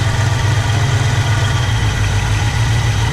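A barn-find 1964 Pontiac Catalina engine running after more than 30 years, a loud, steady, close rumbling idle with a fast, even low pulse and no pauses.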